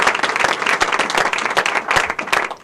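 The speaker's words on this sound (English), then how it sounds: "Now you can applaud" Applause from an audience at a press conference, dense steady clapping from many hands close by with no voices over it, running without a break throughout.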